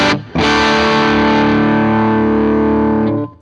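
Distorted electric guitar played through a Line6 POD GO with a Lancaster Audio custom cabinet impulse response, a single sustained chord ringing loud and steady for about three seconds before cutting off.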